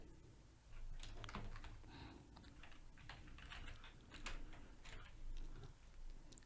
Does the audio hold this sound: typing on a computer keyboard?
yes